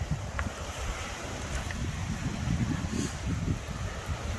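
Strong wind gusts buffet the microphone on a southern Spanish coast, with a rough surf wash from a stirred-up ocean beneath, loud and continuous with no voices.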